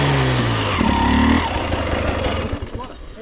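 An enduro motorcycle engine runs close by with a deep, steady drone for about a second and a half, then gives way to rougher, choppier engine noise that fades toward the end.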